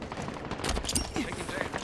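Rapid gunfire in a Halo Infinite 4v4 arena match, dense bursts of automatic shots with a game announcer's voice partly over them.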